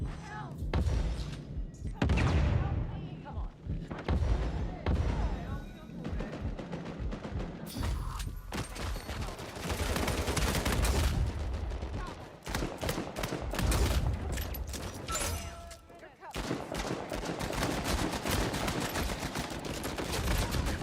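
Bursts of automatic and single-shot gunfire from the Uncharted 4 video game rattle almost continuously in a multiplayer firefight, with thuds and impacts mixed in and players talking over it.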